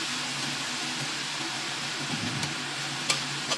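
Shrimp, eggs and yellow chives are stirred in a frying pan, giving a steady, dense sizzle with faint scraping and clinks of the utensil against the pan, no voices.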